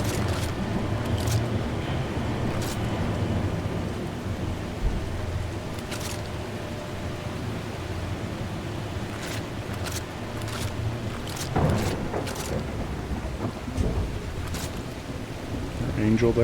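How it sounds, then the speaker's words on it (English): A thunderstorm with rain in The Last Caretaker: a steady wash of rainfall with low rumbles and sharp intermittent crackles, continuous throughout, with some voice-like bits mixed in. "Pretty stormy."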